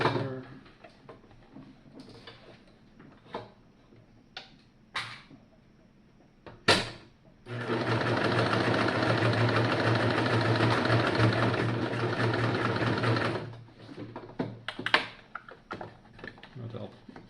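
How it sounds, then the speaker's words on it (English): A serger runs at a half-inch setting, overlocking a fabric edge in one steady, loud whirring burst of about six seconds, framed by quieter clicks and handling noises before and after. "So I'm going to serge all the way around and then come back out. Half-inch setting."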